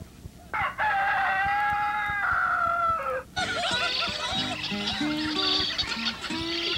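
A rooster crows loudly in a cartoon, followed by a chorus of clucking chickens with rising and falling calls, close and clear with no talking.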